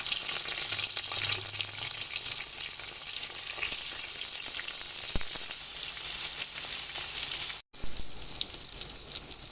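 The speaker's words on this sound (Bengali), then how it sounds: "এই তেলের মধ্যেই আমি পটলগুলো ভেজে নেব।" Pointed gourd fries in oil left over from frying fish, a strong, close, continuous sizzle with occasional stirring clinks, a brief cut-out near the end, and no voices.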